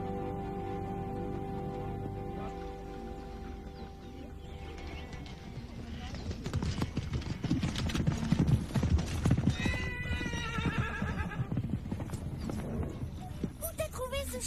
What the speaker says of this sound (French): Où t'as trouvé ce cheval?